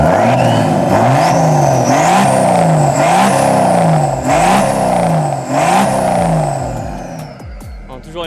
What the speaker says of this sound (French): L'échappement qui siffle, ça siffle bien.